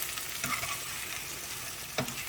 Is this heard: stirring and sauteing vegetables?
yes